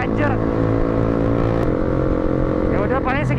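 A motorcycle engine runs steadily through a night ride, a continuous low drone with some harmonic whine, while people talk over it throughout.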